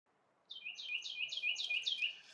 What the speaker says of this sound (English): Oh yeah, those are the morning birds.